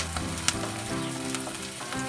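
Onions frying in a pan for a Bengali fried rice dish, giving a steady close sizzle with a few brief clinks and scrapes, and no talking.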